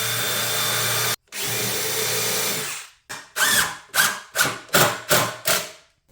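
A power drill whirs in two long runs, then drives a self-tapping deck screw into wood in several short rising bursts, close and loud.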